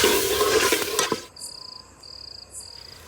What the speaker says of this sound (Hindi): अब डालूंगी मैं इसमें कटे हुए आलू।